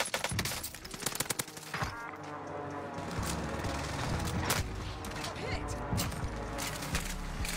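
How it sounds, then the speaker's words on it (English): Loud bursts of automatic gunfire erupt in Call of Duty: Warzone, starting with sharp rapid shots, then giving way to a dense, sustained barrage of shooting and impacts, with talking heard over the action. "Getting shot from far away."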